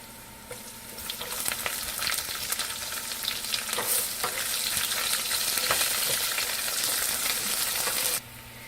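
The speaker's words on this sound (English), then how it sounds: "So now we will be adding chopped onions." Chopped onions go into hot oil with browned garlic for Chinese takeout-style fried rice, a steady close sizzle that grows busier with crackles and spatula scrapes before cutting off, no voices.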